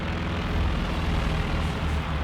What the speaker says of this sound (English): Another aircraft.